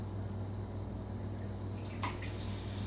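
Filtered water runs steadily from a kitchen tap while Italian galompki sauce is made, a constant close rush that brightens into a sharper splash near the end, with no talking.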